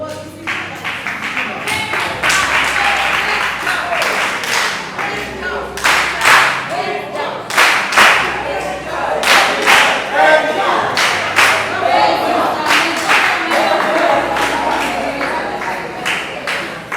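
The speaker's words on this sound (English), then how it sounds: "Let us give him a round of applause." An audience at a 3D animation conference session gives the speaker a round of applause, a loud, uneven burst of clapping with distinct sharp claps and some thumps that lasts for most of the stretch.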